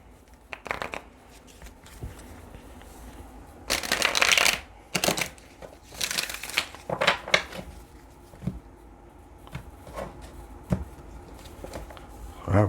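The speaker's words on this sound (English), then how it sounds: "one more good shuffle before we cut." A tarot deck is shuffled by hand in close, repeated riffling bursts with crisp card flutter and soft taps between them, the rhythm uneven across the stretch and without talk.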